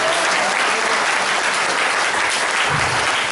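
A church congregation claps hands together during a Sunday worship service, a dense, continuous wash of clapping that stays loud and even the whole time.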